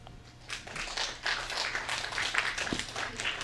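A studio audience claps in response to a question, with a faint, scattered patter of hands that stays thin and brief rather than building into full applause.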